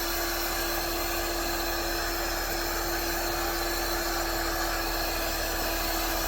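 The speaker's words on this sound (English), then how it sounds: "So I got my heat gun on high." Heat gun blowing on its high setting to warm and reshape a misshapen brake side on a Stihl MS 271 chainsaw, a steady, close airy roar with a constant whine that holds unbroken throughout.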